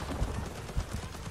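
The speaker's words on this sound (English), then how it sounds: "Who's shooting us?" Gunfire from the Rising Storm 2 game, muffled distant bursts of shots at a faint level, with a few heavier thumps standing out.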